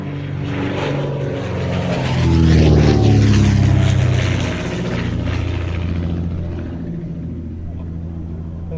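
A de Havilland Comet vintage propeller racing aircraft roars past, swelling to a peak and then fading as it moves away, with a steady droning rumble throughout.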